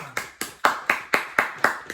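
Hand clapping with foot stomping, done to imitate a loud rainstorm: a steady run of about eight sharp, evenly spaced claps, each followed by a short decaying thud, close and fairly loud with no talk.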